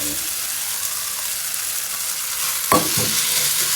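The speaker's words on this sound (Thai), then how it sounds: "ผัดให้เข้ากันครับ" Glass noodles with onion and tomato stir-fried in a pan, a loud continuous sizzle close by, with a few sharp scraping stirs near the end.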